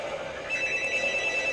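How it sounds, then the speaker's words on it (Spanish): In the Modern Warfare 3 video game on PS3, a telephone bell rings continuously, a steady, fairly close electronic ringing with no voices over it. "¡Bien! Teléfono."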